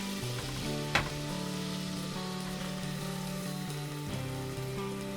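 Butter and flour roux cooks on low heat in a pan, giving a gentle continuous sizzle with a brief clink near the start, close and quiet, while a steady humming tone runs underneath.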